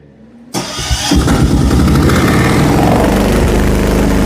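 After a brief quiet moment the diesel engine of a DF-3 machine cranks and catches, then settles into a loud, steady clattering run close by.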